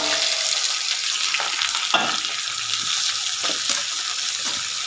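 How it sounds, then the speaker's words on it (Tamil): Ivy gourd (kovakkai) tossed into hot oil after mustard seeds have popped, making a constant, fairly loud sizzle for a poriyal, with occasional stirring scrapes and no speech. "கடுகு பொரிஞ்ச உடனே கோவக்காய் போட்டுக்கலாம்"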